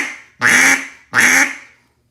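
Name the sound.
single quack on a 1964 EV Iverson ebony duck call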